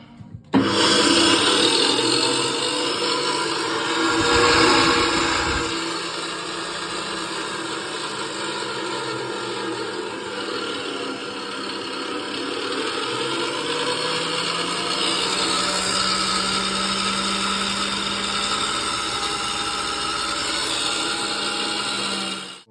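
A homemade corn sheller machine switches on with an abrupt start and then runs continuously for twenty seconds. Its motor drones loudly and steadily, and its pitch shifts slightly partway through. No one speaks.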